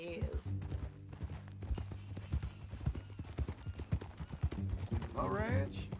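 Horse hooves clip-clop steadily on a dirt path in the video game Red Dead Redemption 2, a close rhythmic trot with a brief neigh near the end, while voices talk over it.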